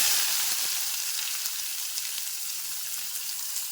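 Whole spices and onion frying in hot oil, a steady bright hiss of sizzling that stays close and even throughout with faint stirring ticks, no talk.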